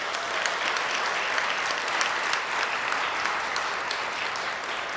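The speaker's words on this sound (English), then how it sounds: "Can we please clap in for?" Steady, dense applause from an audience at a university awards event marking a ten-year anniversary, continuous and even throughout with no talking over it.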